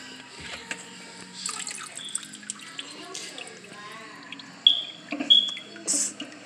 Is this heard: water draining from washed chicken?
yes